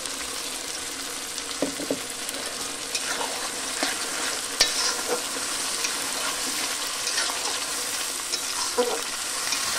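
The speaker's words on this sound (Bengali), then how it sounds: "এটা ভালো করে কষিয়ে নিতে হবে" Ground ginger, garlic, chili and onion paste sautéing with onion and tomato in a pan for a chicken drumstick and liver dish, a steady close sizzle with scattered stirring scrapes and clinks throughout.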